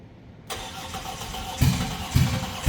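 A Toyota Cressida fitted with a Barra engine cranks and catches near the start, then runs loudly with two heavy revving surges as the idle settles.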